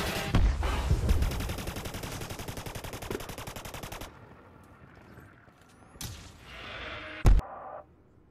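An anti-Thargoid drone gun fires in Elite Dangerous, a rapid loud burst of automatic shots for about four seconds, then quieter mechanical whirs and a single sharp blast.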